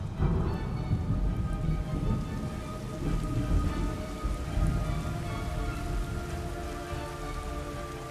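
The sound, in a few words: rain in a video game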